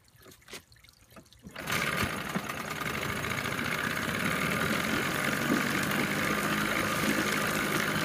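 A 1998 Johnson 9.9 horsepower two-stroke short-shaft tiller outboard, fitted with a new impeller, starts after a few sputters and settles into a steady, close idle with watery gurgling around it.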